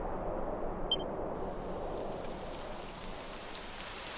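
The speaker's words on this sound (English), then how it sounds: "It would have to go and start raining, wouldn't it?" Steady broadband rain hiss in a Dragon Quest XI game scene, a continuous even wash with one brief high chime near the start and no voices.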